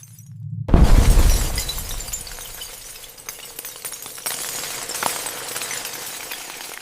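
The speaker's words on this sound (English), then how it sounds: "A shockwave shatters the environment." Sudden loud shattering as a shockwave from a speeding train slamming into an indestructible wall breaks apart the surroundings in a simulation: a sharp, heavy crash followed by seconds of scattered cracking, tinkling debris that gradually thins out.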